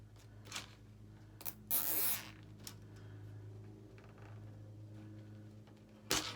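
Zip tie being pulled tight around a Dollar Tree cooling rack wreath form, quiet ratcheting zips in short bursts, one longer pull and a final quick snap, close and faint with no talk.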